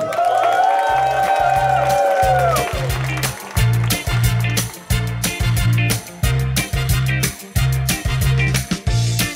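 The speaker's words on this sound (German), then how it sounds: "dann bitte nochmal einen ganz, ganz kräftigen und tobenden Applaus für die ganzen Schausteller und Menschen" Fairground crowd at the farewell of the Rudolstädter Vogelschießen folk festival cheering and applauding, a loud swell of shouts and clapping over a pounding bass beat from loud party music.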